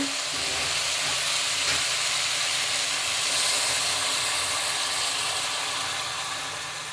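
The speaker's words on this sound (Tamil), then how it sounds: "வதக்கிட்டு இப்போ தேங்காய் பால் விட்டுடலாம் நம்ம" Coconut milk hits a hot pan of sautéed spices and vegetables for vegetarian brinji rice, giving a steady, loud broadband sizzle and hiss that holds throughout with no talking.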